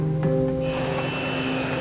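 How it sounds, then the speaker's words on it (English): Engines of a 30-year-old DC-8 cargo jet, Emery Worldwide freight flight, drone steadily with a loud, constant roar and tonal whine throughout, alone without talk. "They're hauling freight across the country aboard a 30-year-old DC-8 cargo plane."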